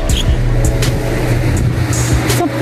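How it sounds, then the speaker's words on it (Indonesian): A car passes on a rural road in light drizzle beside rice fields, its steady engine and tyre hum filling the scene at close range, with no one speaking. "Sudah 9 mobil yang lewat teman-teman ya."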